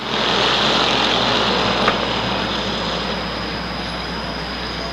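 Limited Sportsman race cars at Waterford Speedbowl roar together into turn one under the lights, a steady loud broadband engine wash heard from a distance with no pauses.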